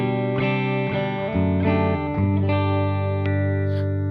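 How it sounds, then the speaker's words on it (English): A Heritage H150 electric guitar on its middle pickup plays a clean tone through a Revv D20 amp with no pedals. Several chords ring out one after another with long sustain and slight reverb, loud and close, with no talking. "So here's my clean tone, middle pickup on the Heritage H150."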